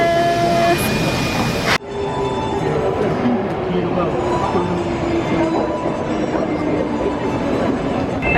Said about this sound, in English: the train is about to leave Kyoto station